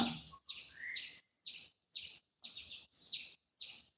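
A squirrel chirping outdoors in Kerala, a run of about eight sharp, high, evenly spaced chirps at roughly half-second intervals, faint and somewhat distant with no talk over them.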